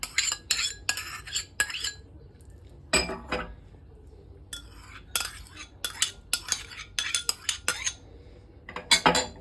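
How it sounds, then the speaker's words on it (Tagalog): Utensils clink and scrape against a bowl in bursts of quick, irregular strokes as fish cake ingredients are mixed together, with brief quiet pauses in between. The sound is close and moderately loud, with no talking. "Then mix together."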